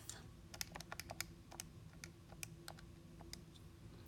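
Rapid key presses while typing a root calculation into a calculator or keyboard: crisp, close clicks in an irregular run with short pauses, no talking.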